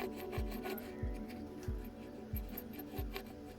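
Worn turbocharger on a BMW X5 35d diesel: a quiet, steady engine hum with a rhythmic scraping rasp repeating roughly every two-thirds of a second, close and alone.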